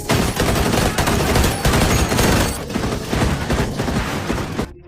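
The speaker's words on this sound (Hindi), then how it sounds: "कुछ सेकंड के भीतर गोली चली" Heavy gunfire in an action movie scene, a dense, loud and continuous fusillade of overlapping shots and bursts that keeps going for several seconds before cutting off abruptly.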